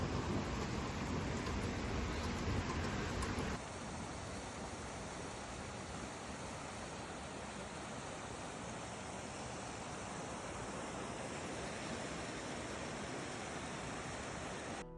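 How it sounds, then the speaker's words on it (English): Heavy, steady rain pours down on a flooded backyard, a dense continuous wash of water with a brief louder stretch at the start and no voices. "This is what happens when it rains in my backyard"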